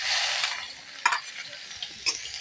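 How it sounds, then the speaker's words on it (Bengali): Chopped onion for restaurant-style dal fry is stirred in hot oil with bay leaves and asafoetida, a bright close sizzle broken by a few quick scraping stirs. "নাড়াচাড়া করে নেব, একটু লাল লাল করে ভেজে নেব।"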